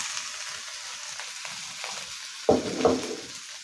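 Curry paste hits hot oil in a wok for a spicy stir-fried eel dish, a quiet, steady sizzle followed by two louder scraping stirs near the end, with no voices.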